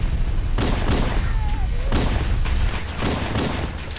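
Gunfire in the Halo video game, with loud, dense bursts of shots crackling across most of the span and a few brief tonal effects mixed in, close and continuous with only short lulls.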